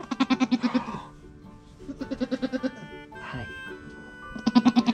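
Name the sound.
newborn baby goat bleating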